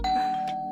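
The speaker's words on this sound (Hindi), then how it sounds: "जिंदगी में पहली बार इतना मजा आ रहा है डोरबेल बजने से" A doorbell rings once, a single sustained electronic chime tone sounding close and clear.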